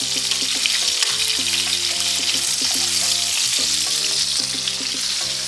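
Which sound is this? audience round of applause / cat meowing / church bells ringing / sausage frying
sausage frying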